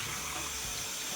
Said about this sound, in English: I run the water on it